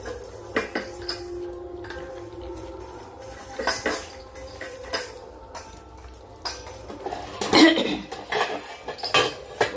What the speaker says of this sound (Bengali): দুজন দুজনের বাটিতে ঠোকাঠুকি করছে